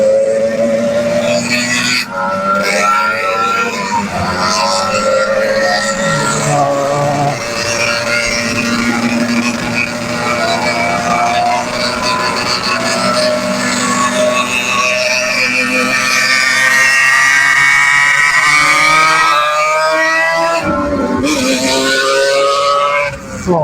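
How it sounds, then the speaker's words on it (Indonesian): A motorcycle engine is revved repeatedly to warm it up, loud close throttle blips rising and falling over a steady idle, with street traffic around and little talking. "RT mencoba panas-panasin dengan ngegeber-geber, dan tadi nahan gas juga"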